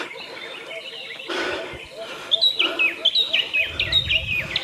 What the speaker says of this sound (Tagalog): Ganda ng mga ibon, no?